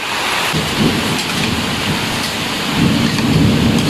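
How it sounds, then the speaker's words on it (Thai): A heavy afternoon downpour with thunder falls beside a noodle shop by a canal in Thailand, a loud, dense, unbroken roar of rain on surfaces with low rumbling swelling near the end. "และแล้วฝนก็ตกลงมาอีกรอบหนึ่งครับกับรอบบ่ายนี้นะครับ"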